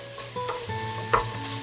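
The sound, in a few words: stir-frying aromatics with curry powder and turmeric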